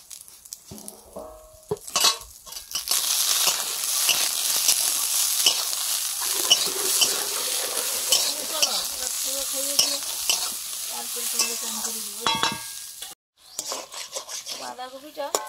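Vegetables frying in oil with salt and turmeric in a kadai, a steady close sizzle running throughout while a spatula stirs and scrapes the pan in bursts, with a brief pause near the end.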